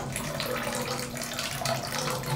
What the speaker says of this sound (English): So this one goes down and then the water goes in.